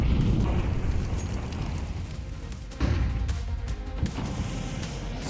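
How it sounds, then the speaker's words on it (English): A grenade blast in Counter-Strike during a professional G2 versus MOUZ match, heard as a dense, rumbling explosion with a sharp renewed burst near the middle, then more crackling, booming aftermath. "Nade'll chip away at Hooksy"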